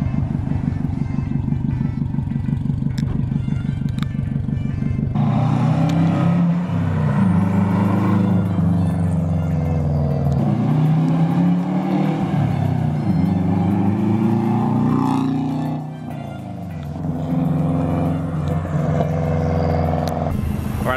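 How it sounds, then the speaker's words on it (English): A car engine idles loudly up close, then rises into a revving pull with a whistling turbocharger spooling up over the motor's steady drone. "you can hear that turbo spooling"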